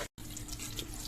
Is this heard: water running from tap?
yes